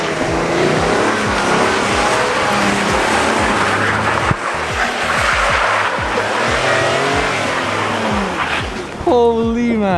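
A police car drifts with its ABS fuse pulled. The engine roars and revs and the tires squeal loudly and continuously up close, while people shout and talk excitedly over the noise.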